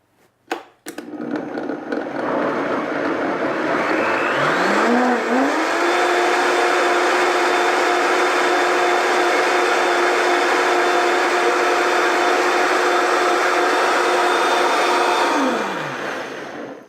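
A blender whirs through Brazil nut milk with a date, its motor spinning up quickly, holding a loud, even whine for over ten seconds, then winding down at the end.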